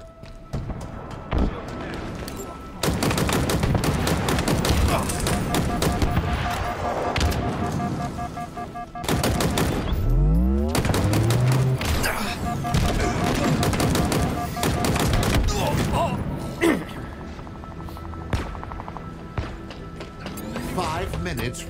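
Heavy gunfire and explosive blasts from Halo multiplayer, with sustained bursts of shooting, sharp booming impacts and a sweeping whoosh, mixed with game effects over most of the stretch.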